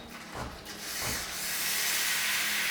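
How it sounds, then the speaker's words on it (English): An espresso machine steam wand being purged: a couple of short spitting bursts, then a steady, loud, close hiss of steam that builds and holds to the end. "first thing I do is purge my wand"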